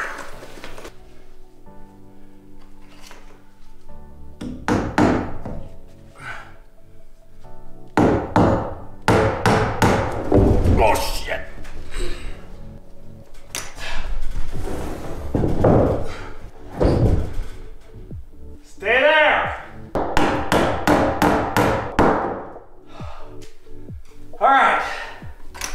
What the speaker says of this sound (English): Let's see if I can get a nail in here.